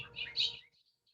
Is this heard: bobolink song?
yes